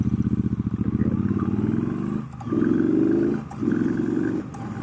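A 2019 Triumph Bonneville Bobber Black motorcycle engine revs loud and close, pulsing steadily as it accelerates through the gears, with short dips at each shift.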